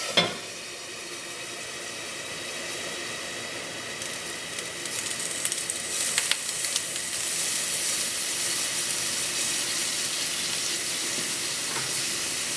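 Pancake batter poured around the edges of a hot, lid-covered pan sizzles and steams in a steady broadband hiss, rising slightly partway through and continuing at moderate loudness without talk.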